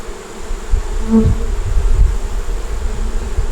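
Honey bees buzz in a dense, steady drone at an open hive box, loud and close, with a brief rise in pitch as some bees lift into the air.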